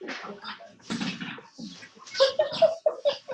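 Dog chewing a squeaky toy, bursts of high squeaks in quick succession toward the end, following muffled rustling and handling noises nearby.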